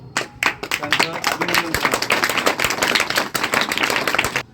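Students at a hostel gathering in Mukhed clap together in a dense, lively burst of applause that lasts throughout, with voices heard in the room.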